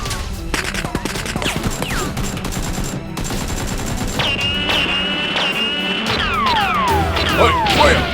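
Toy Nerf guns firing during a mock SWAT-style battle, with rapid bursts of snapping shots, thwacks and clattering, plus shrill whistling electronic sound effects and sweeping tones, fairly close and busy throughout.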